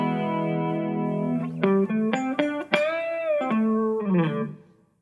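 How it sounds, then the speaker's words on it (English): Electric guitar through compressor-sustainer and micro chorus pedals: a long sustained note, then a run of bending, shimmering single notes ringing out clearly and fading at the end, with no talking. "when I've got the compression sustainer on and the micro chorus, it sounds kind of like this."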